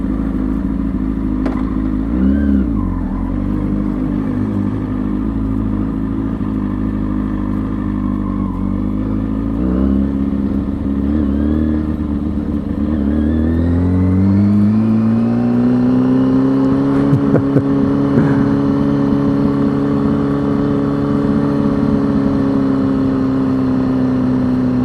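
A motorcycle engine is wrung out hard on a ride, droning loudly and steadily with a clattering edge, then climbing in pitch as the throttle opens fully and holding a high, strained note. No one speaks.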